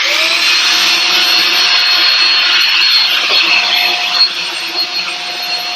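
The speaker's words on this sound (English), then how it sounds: "let's go ahead and turn this vacuum cleaner on" Vacuum cleaner running nearby in a room with a steady loud whooshing roar, holding constant throughout with a few small bumps near the end and no talking.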